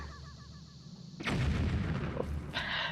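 A bomb bursts in the Zelda Wind Waker video game, a sudden loud, booming blast that cuts in after a short stretch of game music and rumbles on, with a second burst of noise near the end.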